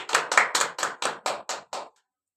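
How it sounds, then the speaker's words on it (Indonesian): Classmates in a classroom counseling session applaud together, about eight even bursts of clapping in a steady rhythm that stop abruptly after two seconds, close and moderately loud with no talk. "Untuk rekan-rekan yang lain bisa memberikan aplaus dulu terhadap rekan-rekannya."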